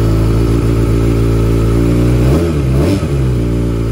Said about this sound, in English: It's a Yoshimura exhaust right here. Sounds deadly on this bike.